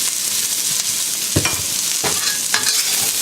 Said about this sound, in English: continue to stir fry the veggies